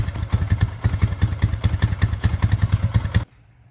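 A 2005 Honda Rancher ATV engine running close by, a rapid loud chugging thump with clattering, running a little rich, then cutting off abruptly near the end.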